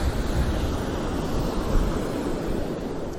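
Waves roll in and break over a shallow ledge on the sea shore at Cardiff, about an hour and a half before high water. A steady, close wash of surf mixes with wind buffeting the microphone. The sound runs alone, with no speech.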